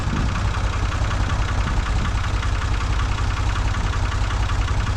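Farmall H tractor engine running steadily with no seat or transmission top fitted, a loud, close, continuous low idle-like chug with knocking pulses and vibration throughout.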